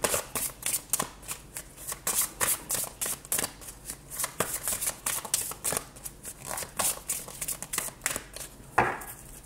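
Cards are shuffled for a tarot reading in a steady run of crisp riffling and slapping bursts, close and clear, with no talk over them.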